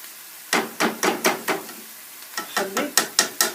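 Spoon scraping and stirring fungi cheese into a chard pie filling in a pan, a rhythmic series of about a dozen clear, close knocks in two runs separated by a short gap.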